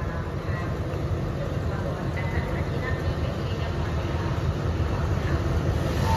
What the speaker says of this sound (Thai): รถไฟจะออกแล้ว